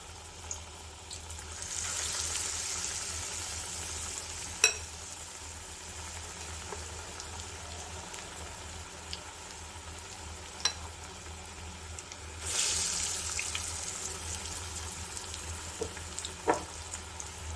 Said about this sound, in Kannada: ಈಗ ಒಂದೊಂದೇ ಉಂಡೆನ ಹಿಟ್ಟಲ್ಲಿ ಡಿಪ್ ಮಾಡಿ ನೋಡಿ ಹಾಕ್ಕೊಳ್ತಾ ಇದ್ದೀನಿ ಎಣ್ಣೆಗೆ